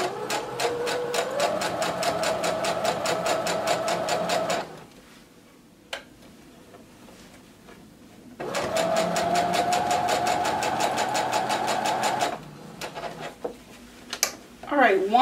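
A sewing machine runs in two steady bursts while stitching up the side slit of a maxi skirt with a 3/8-inch seam allowance, with a quiet pause between them and soft handling sounds after.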